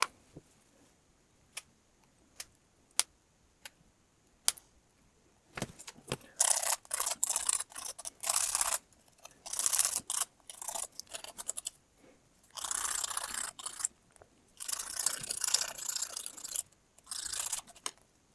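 Small plastic toy gun-clip piece from a vintage Action Force Roboskull being trimmed and sanded: scattered sharp snips at first, then dense, rapid scratchy rasping bursts, close and fairly loud, with no talk.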